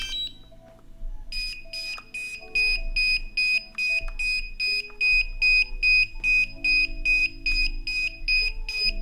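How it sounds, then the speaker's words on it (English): Rapid, regular electronic beeping from a DJI Mavic Air drone remote controller when switched on, high-pitched and insistent, repeating steadily for several seconds close by over a faint low hum. "it's this uncontrollable beeping noise when I turn the controller on"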